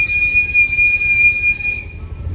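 The Ooty mountain train of the Nilgiris rolls along its rails with a loud, sustained high-pitched wheel squeal over a low rhythmic rumble, fading out at the end.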